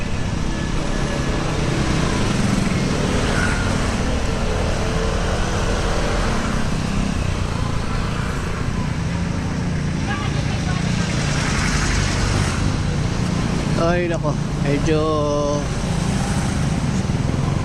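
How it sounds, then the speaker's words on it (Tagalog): Steady road traffic with car engines idling and rumbling in slow congestion near a checkpoint by Family Park in Valenzuela, a continuous close drone, with a person's voice briefly heard near the end. "medyo traffic na rito sa lugar na to"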